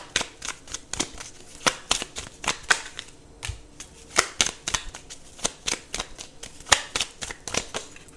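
Oracle cards riffle and slap together in repeated crisp bursts, a steady shuffling rhythm close by with brief pauses, no voices.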